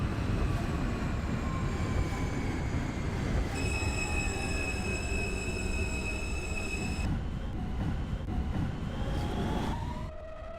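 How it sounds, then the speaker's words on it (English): An R160 subway train on the F local line in the OpenBVE train simulator runs steadily with loud, continuous rail rumble, wheel noise and a sustained high squeal midway, no talk. "This is a Manhattan-bound F local train"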